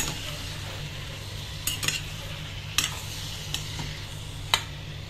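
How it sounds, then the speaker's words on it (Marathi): Chopped tomatoes sauté in a pan, a soft steady sizzle with a few sharp spoon-against-pan clicks spaced irregularly across the clip, no voices. "कापलेले टोमॅटो टाकून घ्यायचे आणि छान त्याला परतू द्यायचं"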